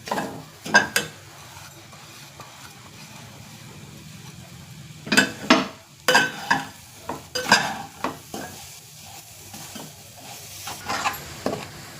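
Grated coconut and powdered jaggery stirred in a pan, with repeated scraping strokes in bursts over a low, steady frying hiss, close and moderately loud.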